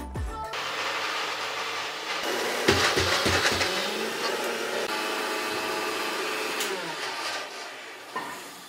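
A mixer grinder whirs loudly and steadily for several seconds, with a harsh high-pitched motor roar and a few knocking bumps near the start.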